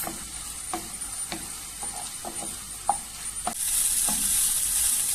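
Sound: peppers being sautéed in a pan

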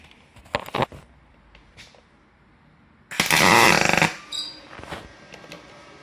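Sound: pulse MIG welding unbrushed aluminum with Magnum MIG 222 welder

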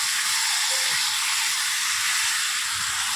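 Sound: chicken frying with spices in a pan

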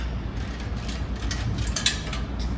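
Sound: ratchet with half inch socket tightening drum cradle

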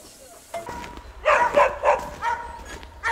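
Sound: dogs barking

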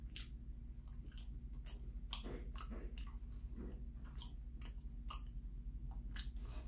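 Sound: chewing bread while eating on camera

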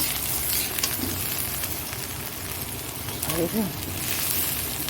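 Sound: okra frying in a pan

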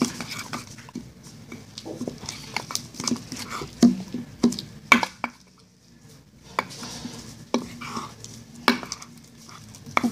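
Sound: mixing slime with baby oil in a bowl

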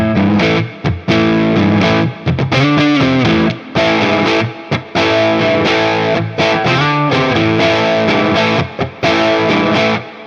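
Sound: homemade Gibson-style electric guitar with distortion and reverb

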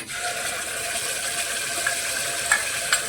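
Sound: spice paste frying in hot oil

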